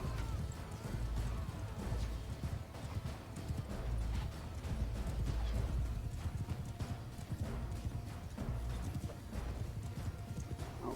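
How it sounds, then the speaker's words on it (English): In Mount and Blade 2 Bannerlord, horses gallop with a dense, continuous rumble of hooves amid battle noise, a horse whinnying in the busy mix. "Horses."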